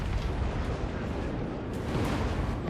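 Cannons fire in a Total War Warhammer 3 battle, a dense, continuous rumble of booming blasts with no voices.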